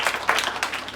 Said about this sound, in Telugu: క్లాస్ కొట్టండి.